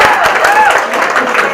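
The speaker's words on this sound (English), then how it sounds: "I feel like we should clap for her." Brief burst of audience applause at a Theology on Tap gathering, a dense wash of clapping from a room of people with some voices mixed in.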